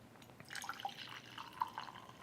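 Coffee is poured into a cup in a quiet tasting setting, giving a faint, soft trickle with light drips.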